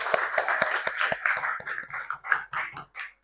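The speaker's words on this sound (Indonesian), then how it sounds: "gue tepuk tangan dulu" Hand clapping, a quick run of sharp claps at the start that turns into rougher, uneven taps mixed with scuffing and murmured voices.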